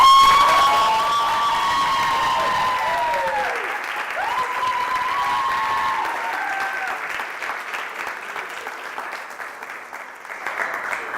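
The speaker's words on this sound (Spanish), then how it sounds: "me tienen que aplaudir." An audience at a theatre school talk claps and cheers loudly, with whoops and shouts riding over dense applause that holds steady for several seconds before slowly thinning into scattered claps.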